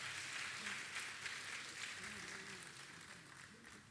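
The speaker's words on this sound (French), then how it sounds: "Sous vos applaudissements" A soft round of applause at a school excellence and retirement ceremony, distant and steady with a low voice murmuring underneath and slowly dying away.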